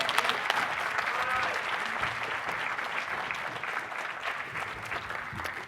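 An audience at a convention workshop claps for a panel, a sustained, fairly loud round of applause that tapers slightly toward the end, with faint voices mixed in.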